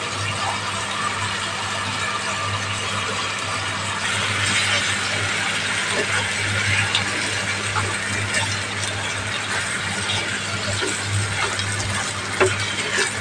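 Rice and mung dal stirred with vegetables in a pot for a rainy-day vegetable khichuri, a continuous close sizzle and scraping with a steady low hum beneath.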